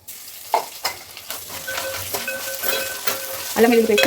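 Ginger garlic paste fries and sizzles in a pan with steady crackling, while a spoon stirs and scrapes at intervals, the sizzle swelling louder near the end.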